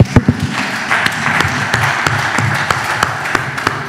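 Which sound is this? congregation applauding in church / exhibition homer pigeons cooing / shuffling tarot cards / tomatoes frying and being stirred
congregation applauding in church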